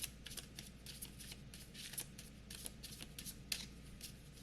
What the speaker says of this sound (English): we'll give 3 more shuffles after this one